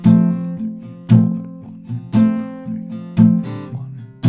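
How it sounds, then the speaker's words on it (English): Palm-muted acoustic guitar strumming of chords for a song, strong rhythmic strokes every second or so with damped chords ringing briefly between, close and alone. "So with the muted strumming, it will sound like this."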